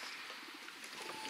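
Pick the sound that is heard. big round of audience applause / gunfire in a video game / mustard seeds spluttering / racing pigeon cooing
racing pigeon cooing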